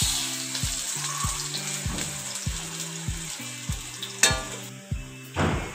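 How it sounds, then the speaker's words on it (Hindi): Pakora batter frying in hot oil for kadhi pakora, a steady close sizzle and bubbling with regular low thumping knocks and a few brief clatters, no talking. "अब ये हम पकौड़े तैयार कर रहे हैं।"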